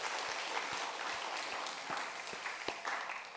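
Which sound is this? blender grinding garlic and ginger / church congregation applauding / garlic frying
church congregation applauding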